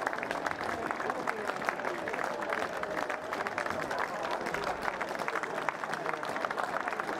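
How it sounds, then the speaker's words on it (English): Crowd applauding players at a school under-15 cricket cup final, a steady spatter of clapping from a modest outdoor gathering, fairly faint and continuous, with some scattered voices mixed in. "Pocklington sportingly applauding every man who's come through from Beths as well."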